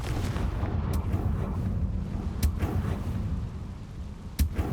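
A fiery Confringo spell explosion in the game Hogwarts Legacy: a rumbling, booming blast bed with sharp cracking impacts at intervals, loud and close.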